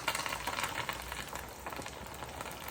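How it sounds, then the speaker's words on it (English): Thin crumbed fish deep-fries in a fryer at 180 degrees with a continuous bubbling sizzle and fine crackling. It is fairly faint and holds steady throughout. "out of the crumb into a fryer. 180 degrees is about right"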